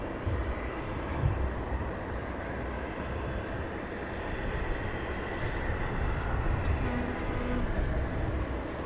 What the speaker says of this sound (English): So I'm watching this aircraft that's just literally just taken off. The Fedex has just taken off.